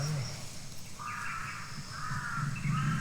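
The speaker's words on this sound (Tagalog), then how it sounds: "Ayok ng mga uwak to" Several crows caw repeatedly outdoors, harsh calls at moderate distance overlapping in loose bursts over a steady background hum.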